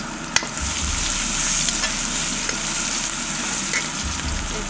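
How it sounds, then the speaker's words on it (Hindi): Garlic ginger paste frying in a pan with already fried onions, a steady close sizzle with occasional stirring scrapes and a couple of sharp clicks, no talking. "प्याज फ्राई हो गया है, और मैं लहसुन अदरक पेस्ट शामिल कर दूँ।"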